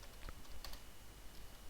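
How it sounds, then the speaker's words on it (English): Someone types on a computer keyboard during a Windows 7 Control Panel session, making a few faint, scattered key clicks against a hissy background. "Again, I'm typing it correct."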